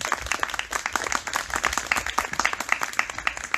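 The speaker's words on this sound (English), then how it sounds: "Let's give another round of applause for all of them." Lively audience clapping at a local candidates' forum on walking and biking, a crisp, uneven patter of many individual claps at close range that continues throughout at moderate loudness.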